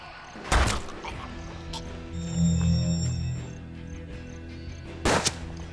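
Musket gunfire in the video game Hard West, two sharp, loud, booming shots several seconds apart, with a low rumbling effect and tonal game sounds between them.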